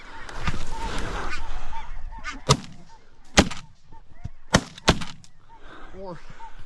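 A flock of Ross's geese honks loudly and continuously during a waterfowl hunt as several sharp shotgun blasts ring out, near and distinct, over the calling birds.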